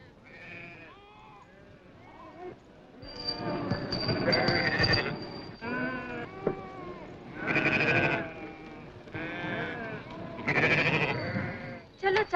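Several goats bleat close by in a rural scene from the 1962 Bollywood film Bees Saal Baad, long wavering cries repeating one after another, some overlapping, with a voice calling between them.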